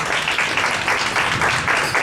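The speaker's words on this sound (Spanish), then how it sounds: "¿Puedes darle un aplauso al Señor?" Congregation applauding in church, a short burst of brisk, dense clapping from many people with a slightly pulsing rhythm, loud and near.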